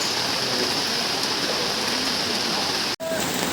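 Heavy rain pours over the open Circuit House cattle market field in Mymensingh, a steady, dense hiss of falling water with a brief dropout near the end.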